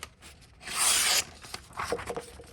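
A knife edge slices through a sheet of paper in a brief, raspy, fairly quiet tearing swipe lasting about half a second, followed by fainter rustling.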